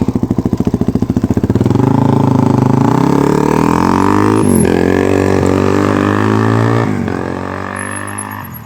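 A single-cylinder 600cc motorcycle engine, likened to a KLR 650, thumps loud and close: distinct slow pulses at idle, then rising smoothly into a sustained revving drone that holds before easing off at the end.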